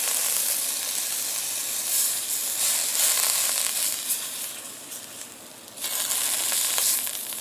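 Floured rabbit pieces fry in a pan with a loud, continuous sizzle that surges and dips slightly, briefly softening before flaring up again near the end.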